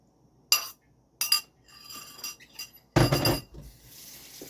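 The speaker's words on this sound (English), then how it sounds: "So I'm just going to stir this again as I put it in." Utensil scraping and clinking against a pan while sauce goes into the food, a few distinct sharp knocks followed by softer scraping and a brief wet pour, close and without talk.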